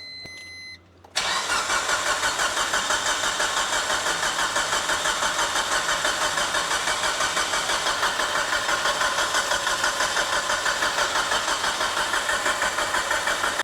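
After a short burst of starter cranking, a Mitsubishi Evo's engine catches and settles into a steady, fairly loud idle with a faint knocking edge that runs unbroken to the end.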